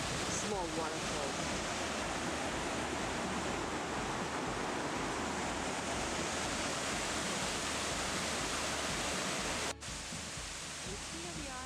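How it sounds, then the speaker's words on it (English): A small waterfall on King Creek in Lassen Volcanic National Park, rushing in a steady, dense wash of falling water that fills the scene continuously, with a brief dip near the end. "It's before the main waterfall, but it's also a beautiful small waterfall."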